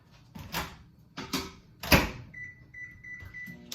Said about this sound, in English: I'm going to melt this in the microwave.